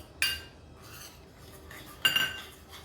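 Cheese being mixed into a white sauce for pasta in a pan, with two sharp metal spoon scrapes and clinks against the pan separated by quieter stirring, fairly close.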